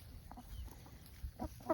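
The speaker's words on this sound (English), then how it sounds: "a very fine specimen of a Buff Orpington rooster" A Buff Orpington rooster gives a few soft, low clucks close by, with a slightly louder cluck near the end over faint background noise.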